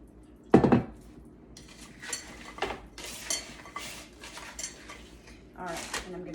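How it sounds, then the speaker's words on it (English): Vegetables being stirred in broth in a pan, with a loud utensil clink and scrape near the start, then softer intermittent stirring and clinking as a voice talks over it. "I'm just gonna try to coat all these veggies with some of this broth"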